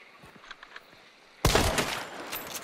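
Gunfire in the video game Hunt: Showdown, a quiet stretch broken by a sudden loud burst of shots that continues densely as overlapping reports and echoes to the end.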